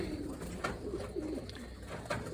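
Young pigeons in a loft coo softly in low, murmuring phrases, with a few brief sharper sounds over steady background noise.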